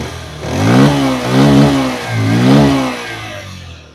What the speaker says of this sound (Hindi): अब मैं देता हूं थ्रॉटल।